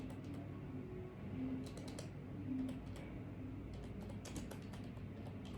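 Computer keyboard typing, steady soft clicks with brief bursts of faster keystrokes over a low room hum, close and moderately quiet.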